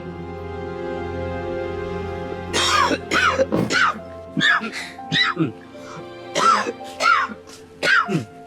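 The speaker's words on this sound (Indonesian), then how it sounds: "Kunaon eta teh batuk-batuk gitu." A series of harsh, repeated coughs and throat-clearing bursts, close and loud, coming in irregular clusters after a few seconds of quieter background.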